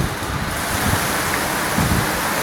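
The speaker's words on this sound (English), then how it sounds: "Water's already reaching this third floor balcony." Typhoon floodwater surging up to a third-floor balcony during a Metro Manila storm, a steady loud wash of rushing water and wind with rain-like hiss throughout, and no voices.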